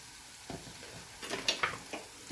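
Green chillies with salt being sautéed in a pan, quiet stirring scrapes and soft sizzle with a few brief louder clinks of a spoon near the end.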